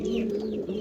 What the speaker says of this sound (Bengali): আপনারা দেখতে পাচ্ছেন একজোড়া গেরে বার্লেস লাহোরি